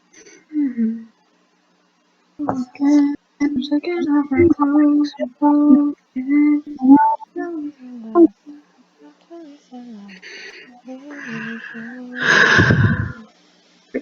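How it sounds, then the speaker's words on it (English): A person breathes close to a microphone during a recorded online session, with hoarse, audible breaths and gasps. Talking runs throughout, and one loud rushing breath comes near the end. "I love how you can hear the sound of my breathing."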